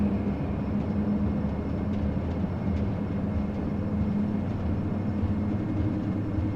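Steady, unbroken turboprop roar of a Majestic Q400 airliner on its takeoff roll in a flight simulator, a dense low drone holding level throughout with no voices over it.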